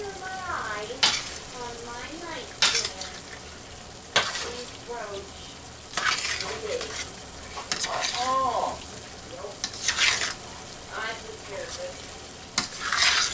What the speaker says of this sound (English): now we are just going to kind of stir this in.